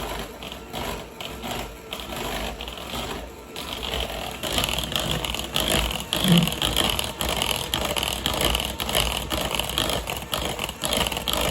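An electric hand mixer whirs steadily on low through cake batter in a home kitchen, a continuous buzzing motor hum with slight scraping, fairly close and steady throughout.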